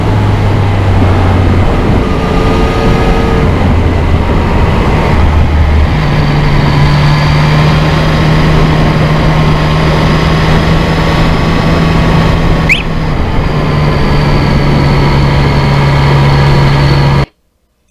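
A 2020 Yamaha MT-09 motorcycle with a quick shifter rides along salty roads, its engine a steady, loud drone under rushing wind, stepping in pitch with each gear change before cutting off abruptly at the end.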